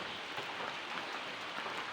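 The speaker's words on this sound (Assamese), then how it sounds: "বৰষুণ দিয়ে আছে অলপ অলপ কৰি" Soft, steady patter of light rain, faint and continuous, with no voices.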